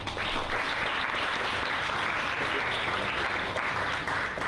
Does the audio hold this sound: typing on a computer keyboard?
no